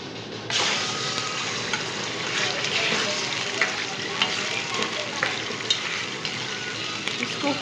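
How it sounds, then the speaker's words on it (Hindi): Kaleji (liver) drops into hot oil and fries with a steady, loud, hissing sizzle. The sizzle starts abruptly and continues evenly to the end, with small pops and crackles. "तेल गरम हो जाए उसके बाद हम कलेजी डालेंगे।"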